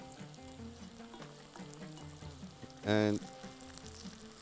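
Onions frying with black lemon in a pan, a steady close sizzle with a brief louder burst midway, while a person talks over it.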